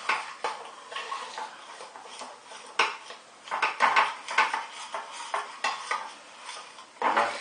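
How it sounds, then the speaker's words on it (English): A utensil scrapes and clinks against a pan while milk is stirred into a chicken curry sauce, giving steady scraping strokes and light taps with no voices. "mix it around like this, we can actually get it, get rid of all the lumps"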